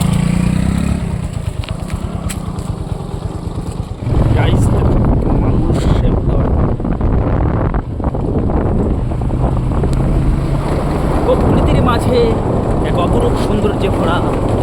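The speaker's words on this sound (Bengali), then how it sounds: "দেখো এই যে একটা বাইক বেরিয়ে পড়লো এবার আমার বাইকটাও রেডি হচ্ছে" Engine drone of a motorbike under heavy wind buffeting, with a voice talking over the noise.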